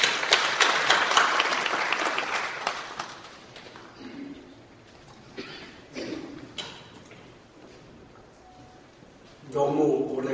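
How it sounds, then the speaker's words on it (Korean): A church assembly congregation in Korea claps together in encouraging applause, loud and dense at first, then thinning to scattered claps, with voices talking over it before a final burst of clapping. "수고의 격려의 박수를 다같이 한번 드리시기를 바랍니다"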